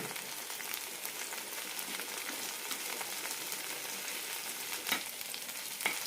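Tomatoes frying in a pan for a Kerala-style mint leaf chutney, a steady soft sizzle with faint crackles throughout and two brief clinks of a utensil near the end.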